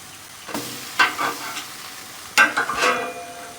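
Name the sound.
bourbon and brown sugar French toast cooking on a grill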